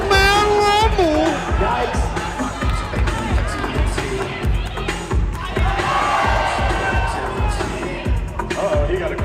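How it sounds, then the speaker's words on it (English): A crowd at a live line-up battle dance event cheers and shouts over pounding rhythmic music with steady beats, while voices talk within the noise. "he got a crowd in here"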